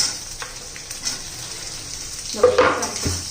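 Green chilies go into hot oil with garlic and asafoetida for a Marwari chili tipore, giving a steady soft sizzle with a brief louder burst of frying and stirring near the end.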